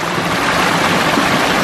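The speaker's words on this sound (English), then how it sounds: "waterfalls cascading" A garden pond waterfall cascading over weathered limestone rocks in a sloping yard, a loud, steady, close rush of falling water with no voices.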